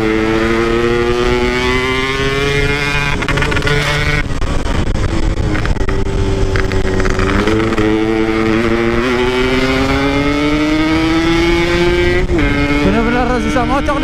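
A motorcycle engine revs up and down repeatedly, its pitch climbing under throttle and sagging as the throttle is released, close and loud, while people talk over it.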